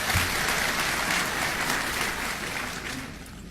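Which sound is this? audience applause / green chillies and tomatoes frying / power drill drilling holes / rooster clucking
audience applause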